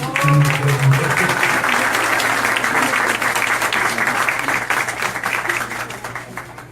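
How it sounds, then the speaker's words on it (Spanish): Full audience applause for a children's choir, a steady roar of many clapping hands that fades gradually toward the end, with a brief voice heard at the start. "Démosle un fuerte aplauso aquí a nuestros muchachos."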